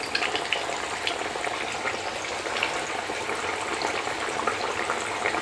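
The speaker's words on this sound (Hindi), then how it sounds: "हमने छोटी छोटी सी पूरियाँ बना कर रखी है ये डाल देंगे इसमें।" Small semolina puris frying in hot oil in a kadai, a steady dense sizzle and bubbling that holds at an even level throughout with no talking.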